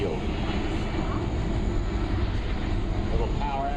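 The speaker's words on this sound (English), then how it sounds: "Watch now, almost no flare as he approaches the runway here at McChord Field." A C-17 transport aircraft lands at a McChord Field airshow, its jet engines giving a steady, fairly distant rumble and whine that holds evenly throughout.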